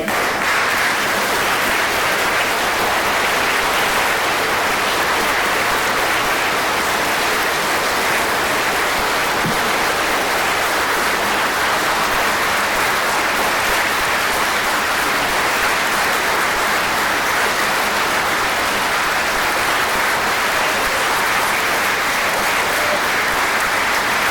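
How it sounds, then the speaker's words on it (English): Sustained applause for veterans at a Cranston city council meeting, a dense steady clapping from the gathered room that continues loudly and evenly throughout without talk. "one more round of applause for the veterans who came out tonight"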